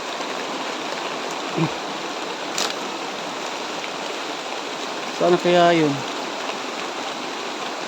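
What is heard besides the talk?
heavy rain falling outdoors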